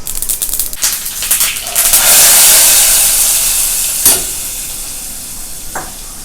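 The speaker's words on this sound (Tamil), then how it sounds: "அந்த குழம்புக்கு கொஞ்சம் கடுகும் 2 கருவேப்பிலையும் தாளிச்சுக்கோட்டேன்" Mustard seeds and curry leaves hit hot tempering oil for a kuzhambu, giving a loud, steady sizzle with a few sharp pops and crackles that slowly fade while staying strong.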